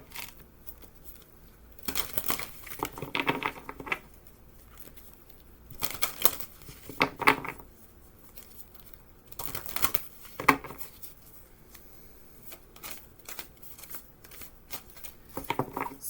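Tarot cards being shuffled, with intermittent bursts of riffling and flicking in bouts separated by quiet pauses, close and fairly soft, without talk.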